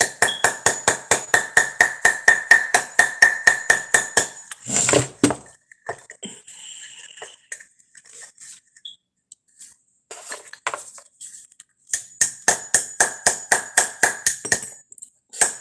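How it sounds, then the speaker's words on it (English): Rapid metallic hammer taps on a copper cuff bracelet ring out in fast even bursts, pausing for a few scattered knocks and clinks, then resuming the quick rhythmic striking. "the bracelet opens up as you hammer it anyway and gets bigger"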